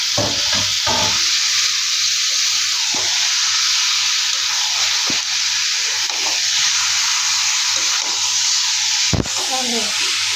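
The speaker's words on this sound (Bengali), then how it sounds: "গরুর গোস্ত একটু কষাই নিই" Loud, constant sizzling of beef frying in a spiced masala, with occasional scraping knocks of a spoon stirring the pan.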